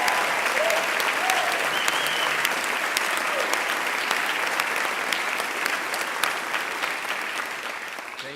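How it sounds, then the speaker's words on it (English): Sustained applause from a large audience at an officer training school graduation ceremony, steady and dense for the full length before fading slightly at the end. "Big round of applause."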